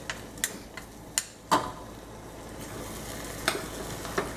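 A spoon scrapes and taps in a pan of spices, with oil, while onion pulao is cooked. Scattered clinks ring out over a low, steady sizzle, close by with no talking.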